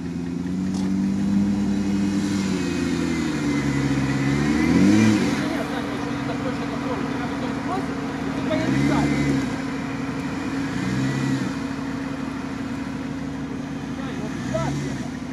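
A Suzuki Samurai off-road vehicle's engine revs in repeated rising and falling surges near a quarry hill climb, loud and close, with people talking over it.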